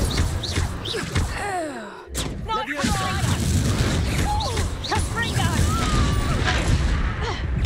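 A Confringo blast spell cast in Hogwarts Legacy combat, sharp bursts and crashing impacts amid busy clashing effects and shouts, with a voice talking over the fight.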